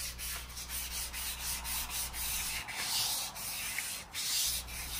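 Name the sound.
light sanding of guitar body with 400 grit sandpaper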